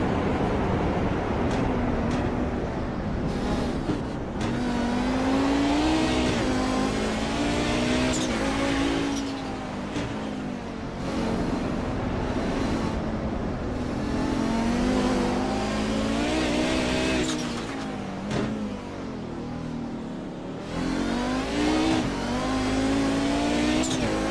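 Onboard a sim racing car at Sonoma in the Kamel GT Championship as other race cars stream past, engines revving and climbing through gears continuously, with roaring passes and shifting pitch sweeping by close and loud.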